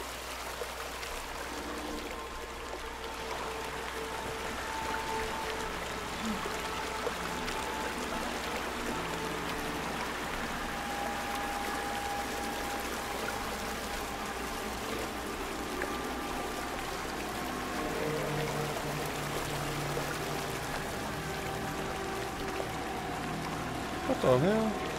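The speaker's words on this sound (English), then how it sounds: "I know we're going over a waterfall," Continuous rushing water of a waterfall in the horror game Outlast 2, a steady broad wash that holds at an even level throughout, with a short louder burst near the end.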